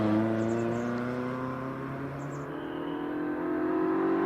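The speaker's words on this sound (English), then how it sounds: "As Steve Perry turns into Pardon in the Mazda MX-5" A Mazda MX-5 race car holds a steady high engine note as it climbs the Prescott hillclimb course, with a slight pitch rise as it accelerates away, no voices heard.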